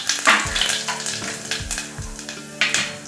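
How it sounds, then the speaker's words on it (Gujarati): Cumin seeds crackle and sizzle in hot oil while cooking a desi chana bateta shaak (chickpea and potato curry), a dense, steady frying hiss with sharp little pops running close throughout. "જીરું આપણું તતડે"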